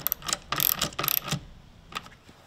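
Short ratchet clicks from driving a Torx 50 bit on a Jeep JL Wrangler Rubicon during a soft top installation, a few quick bursts of clicking close by, then quieter handling noise.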